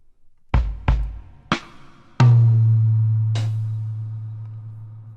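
Easy Drummer 3 virtual drums, singer-songwriter kit on the paper preset, playing a few soft, dry hits followed by a deep sustained boom that slowly fades, with one more light hit near the end.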